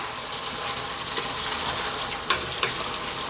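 King prawns fry with tomatoes in a pan, giving a steady close sizzle with a few soft stirring clicks and scrapes and no talking.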